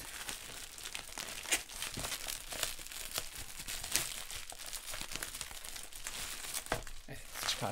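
An A4 Mona Lisa sketchbook is pulled out of its box, giving steady crinkling and rustling of packaging close by with small sharp scrapes throughout, and no talking.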